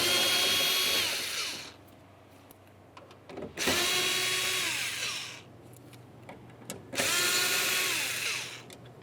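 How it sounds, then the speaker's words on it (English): A power driver with a Phillips bit spins out the mounting screws of a tow mirror on a 1994-2002 Dodge Ram 2500: three loud whirring bursts, each a couple of seconds long, with quiet gaps and small clicks between. "We'll use a Phillips head to remove each of these mounting screws."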